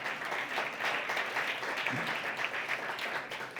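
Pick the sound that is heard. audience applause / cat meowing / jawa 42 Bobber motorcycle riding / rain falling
audience applause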